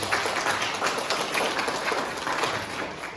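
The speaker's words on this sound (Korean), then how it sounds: "여러분 박수 하나 한번 해주세요." A church congregation applauding during a worship service, dense sustained clapping from many hands filling the room without a break.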